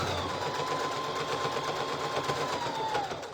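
Sewing machine running a double zigzag stitch on a quilt star appliqué shirt, a close, rapid whirring patter with a motor whine that slows near the end.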